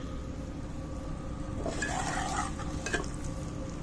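Green chilies roasting in a pan are stirred with a utensil, giving a few scraping clinks and a soft sizzle over a constant background hum, short and close, with no voices.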